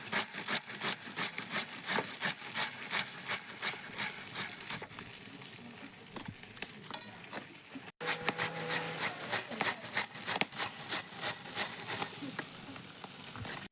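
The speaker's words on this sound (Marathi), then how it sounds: "आता बटाटे आपले सोलून झालेत, आता खिसून घेऊया." Peeled potatoes are grated for crispy fasting bhaji, making rapid rhythmic rasping strokes against the grater, close and steady, pausing briefly near the middle before resuming at the same pace.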